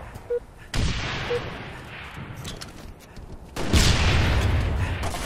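Bursts of video-game gunfire crackle through a noisy, dense mix, with a heavier barrage swelling near the end; a voice can be heard over the action.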